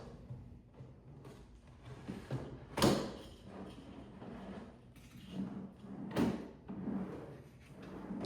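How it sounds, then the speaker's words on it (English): A drawer slides into the wooden tracks of a Yukon wood workbench, with two rumbling sliding strokes, each ending in a louder knock, close by and without speech. "Let's insert the drawer into the tracks."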